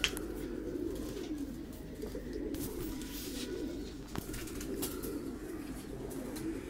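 Pigeons coo steadily in a rooftop loft, a low continuous murmur of several birds with occasional brief clicks and rustles nearby.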